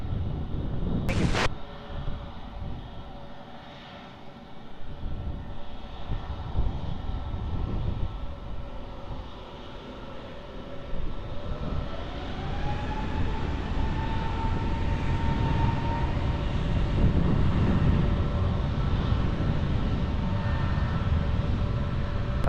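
An airliner taking off at Lisbon Airport, a broad distant jet roar that swells and holds steady, with a rising engine whine as thrust builds, heard alone without talk.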